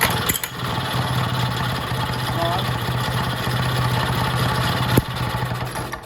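Vintage Jacobsen greens mower engine idling steadily at close range, a low even running drone that holds for several seconds with a brief knock near the end.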